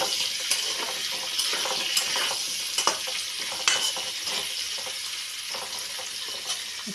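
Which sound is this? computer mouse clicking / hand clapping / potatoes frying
potatoes frying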